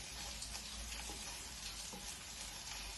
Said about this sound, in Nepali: यो चाहिँ हल्का फ्राई हुँदैछ, यसलाई अलिकति हल्का भुट्नुपर्छ।